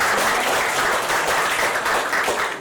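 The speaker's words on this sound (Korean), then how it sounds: "박수로 예수님께 영광합니다." A Korean church congregation applauds during a sermon, a dense, steady wash of many hands clapping close by, loud and sustained for the whole stretch with no talk over it.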